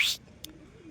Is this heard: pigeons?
yes